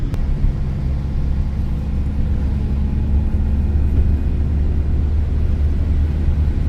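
Heard from inside while driving, a Fiat Ducato M144 diesel van engine with EGR fault codes P0401 and P0402 gives a loud, steady low rumble that holds constant with no talking.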